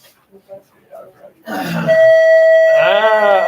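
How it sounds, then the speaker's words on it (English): Bells ring loudly and sustain, starting abruptly after a few quiet voice sounds and holding a steady tone with bright overtones to the end, while speech mixes in over them. "We have multiple bells, I guess"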